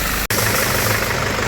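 A Nissan GU Patrol common rail diesel engine idles close by, a loud steady rumbling drone with a rough, slightly knocking texture, broken only by one brief dropout, with no voices.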